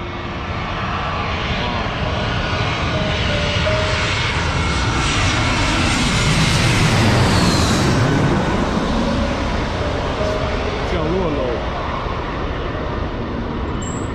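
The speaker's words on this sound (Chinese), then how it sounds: "发动机的声音现在听得都非常清楚了，" A large A320-type passenger jet passes low overhead near Sanya Phoenix Airport, its engine roar building to a loud, sustained peak and then fading gradually, with no speech in the clip.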